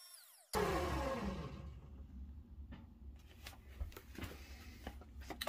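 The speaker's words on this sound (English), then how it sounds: "we are back onto the linisher, 150 grit sanding spindle, and I'm gonna start off here in the cup of the forks" A linisher's 150 grit sanding spindle whirs steadily as it sands the cup of wooden slingshot forks, a continuous close grinding hum with irregular scraping contacts.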